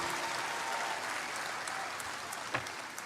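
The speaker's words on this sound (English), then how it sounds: "I think that requires a round of applause for all of us." A large crowd at a live event in Kathmandu gives a round of applause, a soft, even rush of many distant hands clapping, with a faint voice briefly audible near the end.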